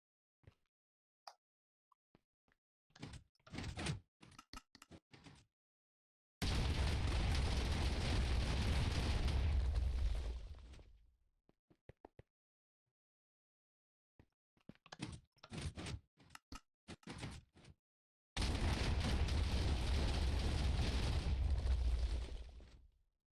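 Cannon blasts in a video game, used to break through end stone walls: two long, loud roaring explosions several seconds apart. Each blast rumbles out and fades, and bursts of sharp clicks and pops come between them.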